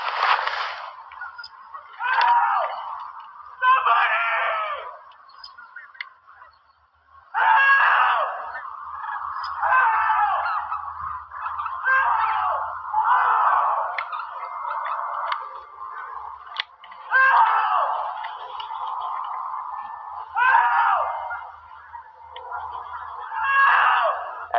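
A man out in the woods screams and wails for help, his loud, strained cries rising and breaking off again and again over a long stretch, echoing and close.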